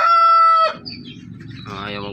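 A rooster crows loudly and close by in a strong harmonic call lasting under a second, followed by low rustling and soft clucking sounds from the fowl.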